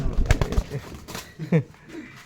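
Pigeons coo in a short burst of soft, throaty calls close by, a few pulsing notes mixed with faint background voices.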